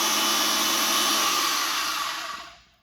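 Ridgid 300 pipe threading machine running, a loud steady motor whir that holds for a couple of seconds, then winds down and fades to silence as the machine stops.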